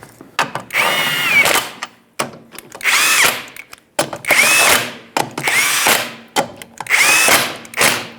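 Power tool spinning lug nuts onto a 2006-2011 Honda Civic rear wheel, five loud close whirring bursts with brief gaps and clicks between them, no talking.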